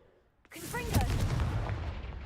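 Blast of the Confringo fire spell in Hogwarts Legacy, a sudden loud whooshing explosion that erupts and roars on for a couple of seconds, with a brief crackle at its start.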